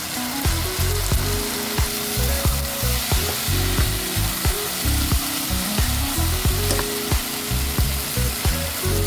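Tomatoes fry in a pan with a loud, bright sizzle, interrupted by rhythmic scraping and stirring strokes that come close and heavy throughout.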